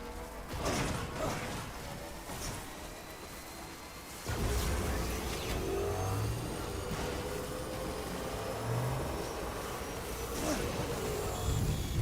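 A motorbike engine in the Death Stranding video game, a continuous rough drone with whooshing surges and a sudden louder jump in rumble midway, staying steady and close throughout.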